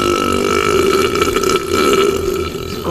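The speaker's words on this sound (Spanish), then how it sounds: "Eructo zombie." A long, loud, gurgling burp from a burping contest drags on for several seconds with a rough, rattling texture.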